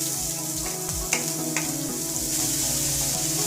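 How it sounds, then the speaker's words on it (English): Finely chopped onion hitting a pan of hot oil, a steady bright sizzle with a few soft clinks and scrapes of a spoon over a low crackling bed. "I have here a pan heating up with a tablespoon of oil. To that I'm going to add the finely chopped onion."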